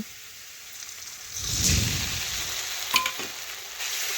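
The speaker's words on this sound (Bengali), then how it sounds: "এখন এটাও ভালোভাবে খুরপি দিয়ে নাড়াচাড়া করে আমি দেখুন একটু ভেজে নিচ্ছি" Loud sizzling of a ginger, garlic, cumin and black pepper paste frying in a pan, with a swell of scraping as it is stirred with a spatula, then a couple of sharp clinks.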